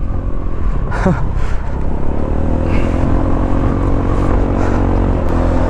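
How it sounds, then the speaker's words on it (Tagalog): Motorcycle with a newly painted exhaust pipe running steadily while being ridden, a constant close engine drone with some rattling and wind noise and no talking. "Napakaganda talaga tumakbo na itong motor."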